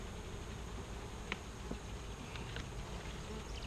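Honeybees at a nuc hive make a quiet, steady buzz against a constant background hiss, with a few faint ticks and no talking.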